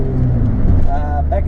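Mitsubishi car engine accelerating in power mode, a loud, steady engine roar with rising whine across the short stretch, recorded from inside the car.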